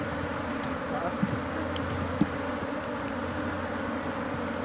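Honey bees drone steadily around an open hive during beekeeping, a dense close buzzing that stays continuous, with a couple of brief soft knocks.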